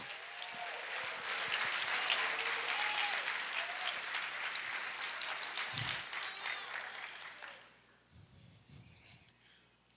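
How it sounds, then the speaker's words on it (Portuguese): Church congregation applauding, dense sustained clapping that fills most of the moment and then fades out, with a voice briefly audible near the end. "Aplauda o Senhor"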